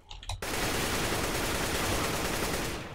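Enemy gunfire in a video game, heard during a graphics card SLI test: a short pause, then a dense, loud, continuous burst of rapid shots that fills the rest of the three seconds.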